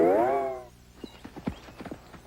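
Horse hooves clip-clopping in a short run of about eight uneven beats at moderate distance, following a brief harmonic whinny-like tone at the start, in a children's television segment about how horses and hares run.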